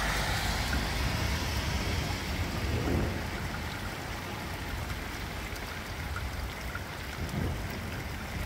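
A thunderstorm pours steady, dense rain with a low rumble of thunder underneath, loud and continuous throughout, with no voices.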